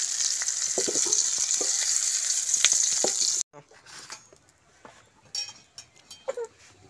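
Raisins frying in hot oil, a bright steady sizzle with stirring clinks for a few seconds, then it cuts to a quieter stretch of scattered clatter and scraping.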